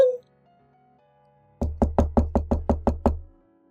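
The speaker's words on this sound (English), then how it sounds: "I heard the entrance doorbell ring, and the sound of knocking." Knocking on an entrance door: eight sharp, evenly spaced raps in quick succession, close and loud, after a faint tonal chime fades at the start.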